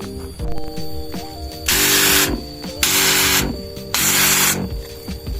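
A sprayer mists pesticide over chili plants in three loud, hissing bursts of about a second each, set against a background of mechanical clicking and hum.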